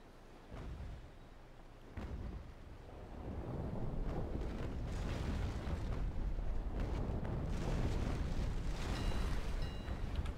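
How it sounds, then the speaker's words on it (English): Heavy naval cannon fire booms in the Naval Action sailing-ship game, rolling blasts that build into a dense, continuous rumble of bombardment from big warships, with no talking. "Don't really want to keep getting bombarded by all the big ships."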